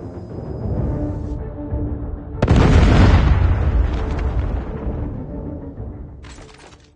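A Predator missile explosion in Call of Duty ranked multiplayer hits as a sudden loud boom over steady game noise, then a long rumbling decay that fades over several seconds.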